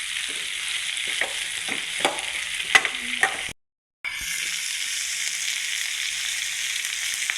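Onions with spinach greens, coconut and tomato sautéing in a pan, a steady close sizzle with scraping stirring strokes, briefly cut to silence midway before the frying hiss resumes.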